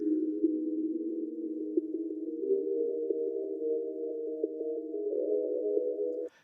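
A sustained synth pad plays alone, a steady mid-range hum that holds for several seconds. It shifts gently in pitch partway through and stays at an even, moderate level with a slight resonant buildup.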